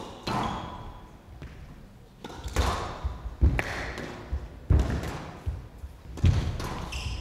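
A squash ball is struck during a women's semifinal rally at the Windy City Open, giving a series of sharp, hollow thuds about a second apart that ring off the court walls, with faint crowd or court noise between hits.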